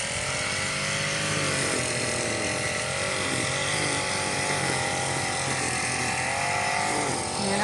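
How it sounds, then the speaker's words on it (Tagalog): A motorized grass cutter runs steadily in a rice field, its engine giving a loud, continuous whining drone close by, with no talking. "Nandiyan na si Justin grass cutter na guys."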